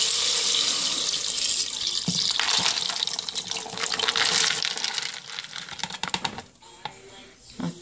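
Drained beans and clean water being poured into an electric pressure cooker in a home kitchen, a steady close splashing pour that thins out into a few last drips and clinks near the end.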